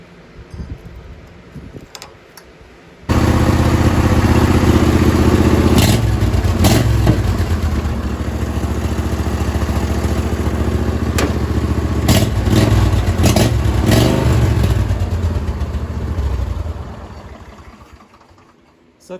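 A small riding mower engine starts abruptly and runs loud and steady with mechanical clatter and a few sharp knocks, then fades out near the end, with no talking.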